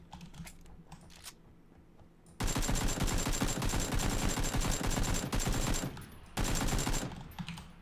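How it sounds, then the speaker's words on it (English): Automatic rifle fire from an AKM in the battle royale game PUBG, with long loud sustained bursts of rapid shots, a brief pause, then another burst, preceded by quieter ambient game noise. "I'm gonna fire on this guy in the middle of the building."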